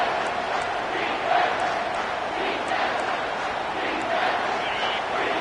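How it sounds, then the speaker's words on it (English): A stadium crowd roars steadily behind the defense on third down in a Madden football video game, a dense, sustained wash of cheering with no pauses. "Decibels rising as the crowd gets behind this defense on 3rd down."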